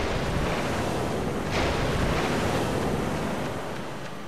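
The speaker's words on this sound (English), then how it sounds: "These water pressure things push you around." Rushing water current from Tales of Rebirth, a steady broadband wash with wind-like roar that swells slightly mid-clip and eases toward the end, with no voices.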